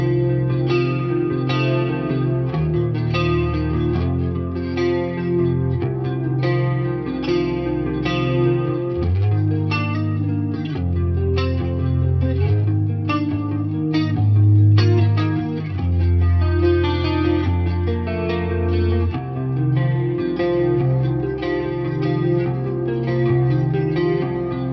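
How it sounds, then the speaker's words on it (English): A clean electric guitar through a Fractal FM9 plays shimmering chords and picked notes on the tapped neck pickup, washed in a lush chorus and spacious reverb, steady and unaccompanied. "This is a really pretty sounding clean sound, especially on the neck pickup tapped of this guitar."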